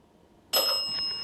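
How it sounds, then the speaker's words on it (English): A bell inside a house rings once, suddenly and clearly, then its bright metallic tone lingers and fades over a quiet background. "It's ringing the bell."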